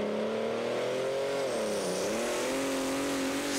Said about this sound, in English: This tractor is running on methanol, remember?